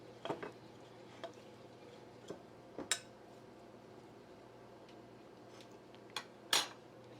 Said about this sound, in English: Now we have to mix it.